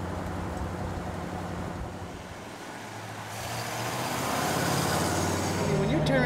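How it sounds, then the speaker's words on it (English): A 1951 Allard K-2 sports car with a Mercury flathead V8 driving along, a steady engine drone with road and wind rush that swells louder toward the end, while people talk over it. "And I do love the sound of a flathead."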